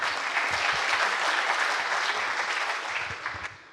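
A crowd in a hall claps for an award recipient, the full and even applause staying strong before easing slightly at the end, with no speech on top.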